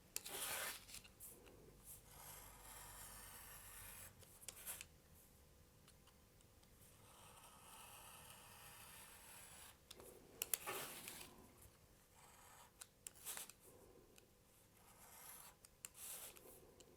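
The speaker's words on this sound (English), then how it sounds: "So I'll just cut it out." Scissors cut through paper for a pop-up box model, with quiet repeated snips and rasping rubs spread over a long, otherwise silent stretch.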